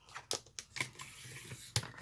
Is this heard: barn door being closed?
no